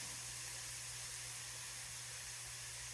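Steady broadband sizzling hiss from food sauteing in a pan for a dairy-free chicken pot pie, continuous and even throughout with no talking, plus a low constant hum underneath.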